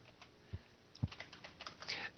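Quiet, quick clicking keystrokes on a computer keyboard during an online business class, an irregular run of taps with a few louder strokes, with no talking.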